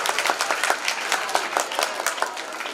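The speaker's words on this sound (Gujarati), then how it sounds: "તાળીઓ પાડો." A school audience claps during a student awards ceremony, a lively patter of many hands with distinct individual claps, close and steady throughout.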